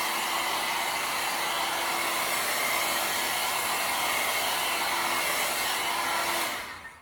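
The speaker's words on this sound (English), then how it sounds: "I'm going to hit this really quick with the blow dryer." Hair blow dryer aimed at fresh paint on a handmade nutcracker, a steady loud whooshing motor hum running unbroken for several seconds before cutting off at the end.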